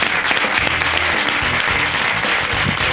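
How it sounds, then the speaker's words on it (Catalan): A studio audience gives loud, dense applause for Carlos Latre on a Barcelona talk show, a continuous roar of clapping with some low voices underneath. "Fort aplaudiment"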